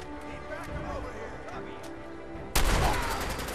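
Gunfire from the video game Fallout 4 erupts near the end as a loud burst of rapid shots during a fight. Game sounds and a voice are heard faintly beforehand.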